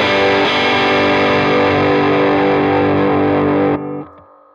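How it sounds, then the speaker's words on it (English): Squier 40th Anniversary Jazzmaster Gold Edition electric guitar played through a Boss FZ1W Waza fuzz pedal with light spring reverb, a loud thick sustained fuzzed chord that cuts off abruptly near the end. "If I want to add some more gain or distortion, I just kick on the Fuzz pedal here, which is the Boss"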